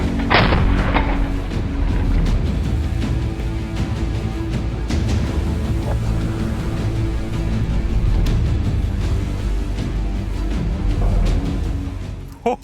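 A heavy machine gun, a Browning M2 or a DShK, fires at an armored personnel carrier outdoors: loud, sustained, rapid booming bursts that pound on almost without pause.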